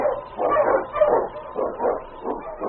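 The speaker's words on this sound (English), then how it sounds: "The wonder dog King, swiftest and strongest of Eskimo lead dogs, blazes the trail through storm and snow for Sergeant Preston" An Eskimo lead dog named King barks and whimpers in a radio drama set in the snowy Yukon: a run of close, rhythmic yips and whines with no talk over them.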